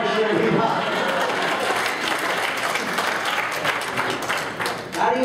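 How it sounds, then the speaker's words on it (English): Applause from a conference audience at a Toastmasters district spring event, steady and dense for about five seconds with a brief dip near the end, with voices mixed in. "applause for Srinivas"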